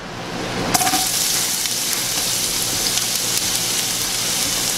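Chopped onion and garlic hit a hot pan and burst into a loud, steady sizzle that starts abruptly and keeps crackling evenly, with no talking.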